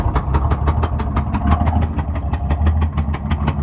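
A 1968 Ford F100 pickup truck's engine and exhaust rumble at idle up close, a loud, rapid, evenly pulsing burble that holds steady throughout with no talking.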